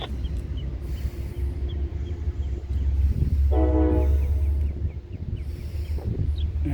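Amtrak Empire Service passenger train departing the City of Hudson station, a deep rumbling low drone of the locomotive with a short tonal horn blast midway, fairly close and steady.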